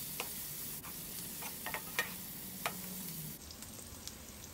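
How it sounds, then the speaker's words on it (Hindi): Ginger garlic paste frying in oil over a medium flame, a steady low sizzle with occasional soft pops and crackles, close by and continuous. "वन टेबलस्पून अदरक लहसुन का पेस्ट ऐड करेंगे, मीडियम फ्लेम पे फ्राई करेंगे ऑयल में।"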